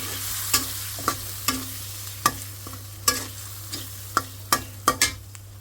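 Fish is stirred into a spice paste frying in a pan: a low sizzle broken by sharp, repeated clatters of a spatula scraping and knocking the pan, close and without talk.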